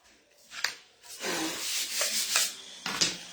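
Sandpaper rubbing by hand, a brief scratch and then a steady, close gritty rasp lasting about two seconds, with a few sharp strokes around it and no voices.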